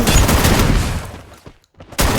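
Bursts of G36 rifle fire in the game Free Fire crackle loud and dense, break off into a brief lull, then erupt again at full strength.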